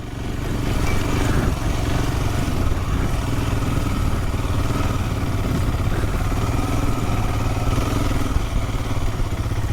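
A Royal Enfield Himalayan motorcycle rides through sand, its engine a steady, loud mid-pitched drone with clattering that holds for the whole stretch and no talking over it.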